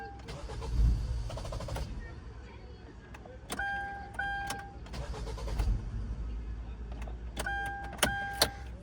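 A Kia car engine cranks, starts and stalls in repeated tries, with cranking whirs, brief engine bursts and electronic chimes, heard close by from inside the vehicle.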